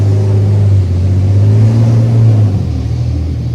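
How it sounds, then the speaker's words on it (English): A heavy vehicle, a fire truck passing near a fire station, gives a loud, close engine rumble with a steady low drone that shifts and fades slightly as it goes by, with no siren and no talking. "oh, here comes the fire truck"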